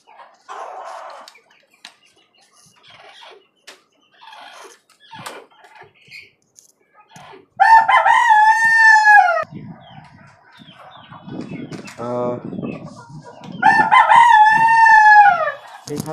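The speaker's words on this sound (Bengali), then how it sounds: "এই খাঁচার মধ্যে আরো আপনার 2টা দেশি মুরগি এবং একটা দেশি মোরগ দিয়ে ওদেরকে রাখা হয়েছে" Two local hens and one local rooster are kept together in a cage. Scattered soft clucks and rustles build to two loud, close rooster crows, with clucking in between. No voices are heard.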